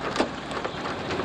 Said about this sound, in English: I don't think you want to get out in the hail.